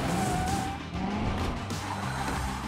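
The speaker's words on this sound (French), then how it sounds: "Ou fais crisser les pneus." Cartoon car tires screeching in a Hot Wheels toy-car scene, a loud continuous skidding squeal lasting a few seconds with wavering pitch.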